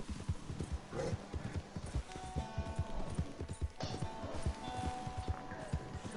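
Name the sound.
horse in the video game Red Dead Online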